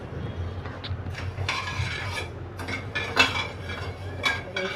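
A wok being set on a gas stove to make sugar syrup, several sharp metallic clanks and scrapes of cookware spaced irregularly, close and fairly loud, with no talking.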